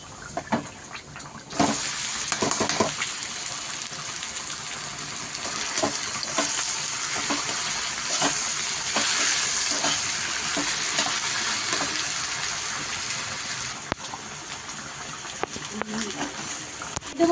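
Steady loud sizzling of taro leaves frying in hot oil with fried crushed garlic, with occasional stirring clatter and a brief lull near the start.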